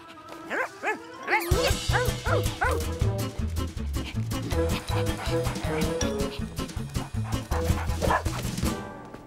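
A cartoon dog yips and whimpers, then barks repeatedly over a busy musical backing, the barks loud and close.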